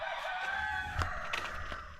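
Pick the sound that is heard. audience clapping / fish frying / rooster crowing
rooster crowing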